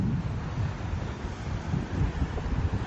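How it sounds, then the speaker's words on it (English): Ocean surf rolls onto a beach near Tavira in the Algarve, a broad steady wash of waves mixed with wind buffeting the microphone, with no voices. "The waves coming in there."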